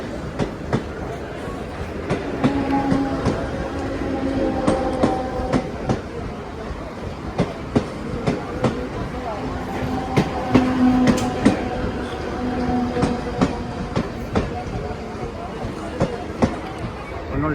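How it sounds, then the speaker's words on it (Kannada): A local electric train passes near Kalyan station, Mumbai, rumbling steadily with rhythmic clickety-clack of wheels over rail joints, loud and close, voices talking underneath. "ಇದೆಲ್ಲ ಲೋಕಲ್ ಟ್ರೈನ್ ಈಗ ಹೋಗ್ತಾ ಇರ್ತಾ ಬರ್ತಾ ಇರ್ತಾವೆ"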